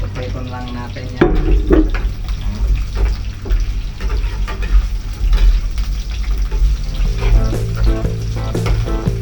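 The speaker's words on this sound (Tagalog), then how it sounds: "Prito lang natin yan." Carrots sizzle and crackle as they fry in a hot pan, a steady frying hiss with occasional clinks and a brief voice in the background.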